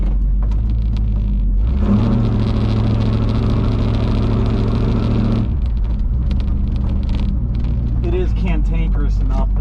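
A snow plow truck engine rumbles at idle, then surges into a louder steady rev for a few seconds before dropping back, with talking over it.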